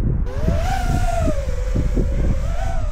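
An FPV drone flying inverted on standard propellers throttles up, producing a loud, close, whining buzz whose pitch swells and dips over a rumbling, gusty wind-buffeted background.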